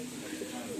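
A pigeon from a pair of good-line breeding birds coos softly and steadily, with low, rounded throaty notes running through the short moment at moderate distance.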